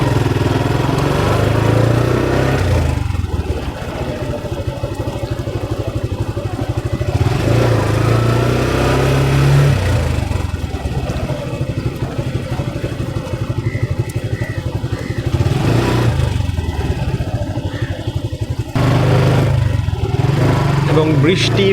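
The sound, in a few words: motorcycle being ridden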